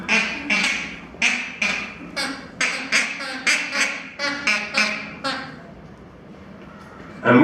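Foley imitation of a family of ducks quacking, a close series of about a dozen nasal quacks in quick irregular bursts that fade out before a new sound starts at the end.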